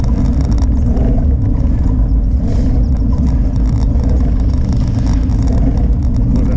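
Steady road traffic on a city street, formerly the M30 motorway near the Carretera de Extremadura in Madrid, with cars passing in a continuous loud engine rumble and no talk.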